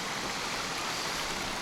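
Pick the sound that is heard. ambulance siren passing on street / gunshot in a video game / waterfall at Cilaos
waterfall at Cilaos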